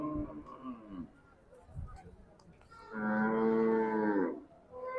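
A large cow moos loudly and at length at a busy pre-Eid cattle market in hot weather, after a stretch of nearby voices talking.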